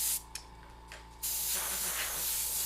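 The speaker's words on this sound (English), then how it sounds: "I don't want to spray like, you don't want to flood this" Airbrush spraying paint in short bursts, a steady broadband hiss that starts, pauses, then resumes and runs continuously, close and fairly loud with no talking.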